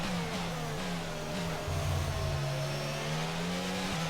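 A Formula 1 car engine in F1 22 holds a high, steady whine during an overtake at the United States Grand Prix, with a brief lower roar joining midway as cars pass close by.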